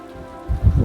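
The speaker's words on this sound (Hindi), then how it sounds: "बारिश तेज होने लगी है" Heavy rain falls steadily on an old house in Agra, a dense close wash of drops with a low rumble swelling near the end.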